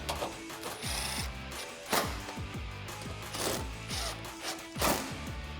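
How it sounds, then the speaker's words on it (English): Socket ratchet tightening 10mm screws on a 2016-2020 Toyota Tacoma headlight mount, giving repeated quick clicking ratchet strokes in short bursts, close and fairly clear over faint background noise. "take our 10mm screws up top and secure those in, tightening them up with the 10mm socket"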